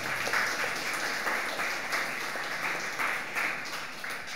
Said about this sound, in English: Please clap your heart out for them